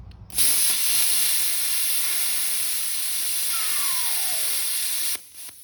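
A hynade 55A non-touch pilot arc plasma cutter slicing through 1/2 inch rebar gives a loud, steady high-pitched hiss that starts abruptly, holds for about five seconds and then cuts off.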